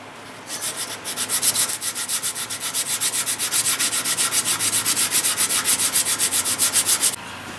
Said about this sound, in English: We'll just keep sanding on this with my fancy sanding dowel here.